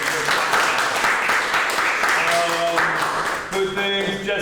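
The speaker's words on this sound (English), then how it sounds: "Was big round of applause." An audience applauds after a karate match at a dojo training session, loud clapping from a nearby crowd with voices and cheering mixed in, some tonal sounds rising near the end.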